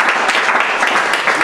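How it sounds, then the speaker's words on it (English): Audience at a Buffalo bookstore event applauding touring speakers, steady dense clapping throughout at close range, loud and unbroken with no talk. "giving a round of applause to these people for making this trip"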